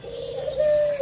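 Close and fairly loud, an Australian dove utters one smooth, sustained coo that swells slightly toward its end, heard alone against quiet surroundings.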